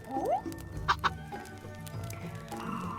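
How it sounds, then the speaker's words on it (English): A chicken clucks in a quiet room: a short rising call, then two sharp, close clucks in quick succession, followed by softer background noise. "Chicken."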